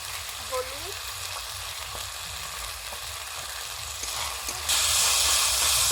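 Loud continuous sizzle and hiss of a spice paste with water and chili powder frying in a pan, steady crackling that grows brighter and louder near the end as more goes in, with no talking.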